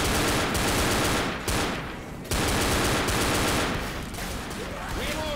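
Rapid, dense volleys of double-pistol gunfire in the Left 4 Dead video game fill the whole stretch, loud and close, with a brief dip midway before the shooting resumes.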